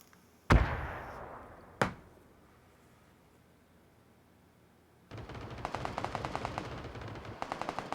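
Gunfire in the battle royale game PUBG: two sharp, loud single shots about a second apart, each with a fading echo, then after a quiet gap a rapid, steady stream of automatic fire that runs on with a brief break.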